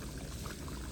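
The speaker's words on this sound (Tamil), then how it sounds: "இப்போ பாருங்க, நல்லா கொதிக்குது. மூடியில் படுகுது, தெரிக்குது." Chalai fish curry boils hard in a covered pot, a dense, continuous bubbling and spattering against the lid, close and steady with no talk.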